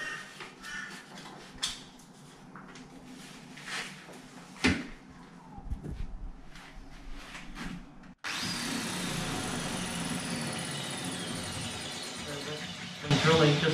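A power drill boring into wall tile to fit a toilet roll holder starts after a stretch of quiet handling noises and runs loud and continuous at close range, with a person talking before it.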